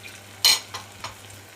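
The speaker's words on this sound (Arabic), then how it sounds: "مجرد يا حبايبي ما طلعت ريحه التوم نقوم نازلين بمعلقتين خل كده" Garlic frying in a pan gives a sharp hiss as vinegar goes in, followed by a couple of softer sizzling stirs, close and brief over faint background hum.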